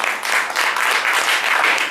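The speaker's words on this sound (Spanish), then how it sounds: "Dele fuerte palmas al Señor si lo crees en tu corazón." Church congregation clapping and applauding during a Spanish-language service, a dense, steady wash of many hands, loud and close with no break.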